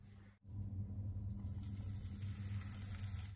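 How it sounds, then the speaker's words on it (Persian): Meat fries in butter in a pot, giving a steady, quiet sizzle with a low rumble underneath after a brief cutoff at the start. "یه مقدار کره اضافه میکنیم به قابلمه و گوشت رو حسابی سرخ میکنیم"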